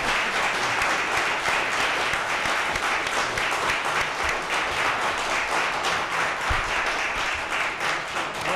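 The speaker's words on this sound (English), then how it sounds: "there's not many times that we get applause" Applause from the audience fills a city council meeting after a vote, steady, dense clapping sustained at even strength throughout, close and loud.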